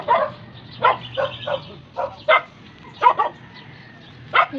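A dog barks from some distance outdoors in a rural Philippine yard near malunggay and banana plants, giving about six short separate barks spread across several seconds, with quiet background ambience between them.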